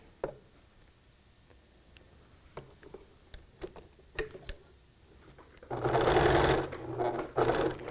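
A sewing machine stitches T-shirt quilt fabric. At first there are only scattered soft clicks and fabric handling, then the motor whirs in a loud, steady burst near the end.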